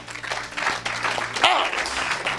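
Applause breaks out at a church deliverance service: dense, steady clapping fills the room, with a brief louder swell near the middle.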